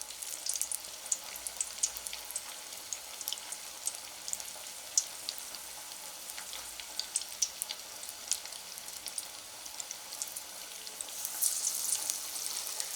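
Banana flower vadai fry in oil over a medium flame with a soft, continuous bubbling sizzle dotted with sharp crackles and pops, swelling slightly toward the end, with no talking.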